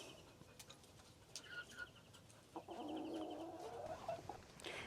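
Chickens clucking in a small backyard enclosure, soft intermittent clucks building to a longer, drawn-out hen call, close and fairly quiet.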